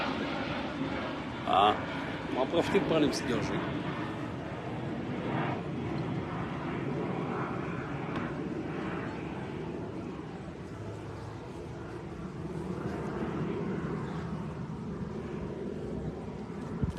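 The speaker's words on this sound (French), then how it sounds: "il y a comme un avion qui passe." An airplane passes overhead, a faint, low, steady drone lasting throughout while someone speaks briefly in French near the start.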